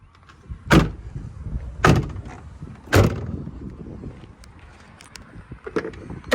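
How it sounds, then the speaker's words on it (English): Three sharp thuds of a 2005 Ford Excursion's doors at roughly one-second intervals, close by, followed by quieter clicks and rustling handling noises. "Both doors open."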